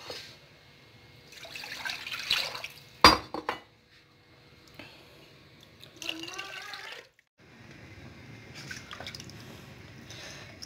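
Water poured from a jug into a pot of kadhi masala mixed with yogurt, with splashing, clinks of metal and glass, and a sharp knock, in a home kitchen; the sounds come in close bursts separated by quieter gaps.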